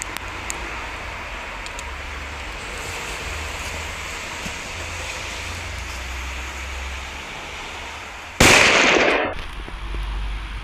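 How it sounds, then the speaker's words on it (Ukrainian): A firecracker bursts inside a pile of snow outdoors, one sharp loud blast that rings briefly before fading, following a long stretch of quiet wind-like background hiss. "Зараз ми будемо зривати оцю снігову кучу."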